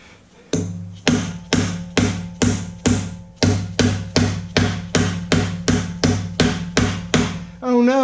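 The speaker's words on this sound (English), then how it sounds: "tap it in place with my rubber dead blow here" A rubber dead blow hammer taps a part into place on a TH350 transmission during a Fairbanks manual shift kit install, about a dozen evenly spaced, ringing, close knocks, with a brief murmur at the end.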